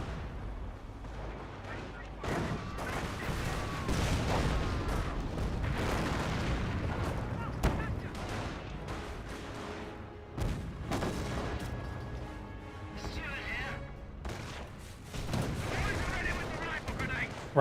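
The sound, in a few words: incendiary mortar fire in Company of Heroes video game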